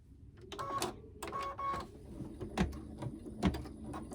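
A Sweet Pea embroidery machine stitches around layered fabric on an Easter table runner, giving two whirring bursts followed by sharper mechanical clicks and taps, close up with no voices.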